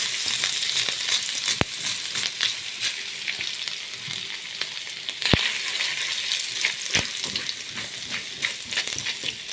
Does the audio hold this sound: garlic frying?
yes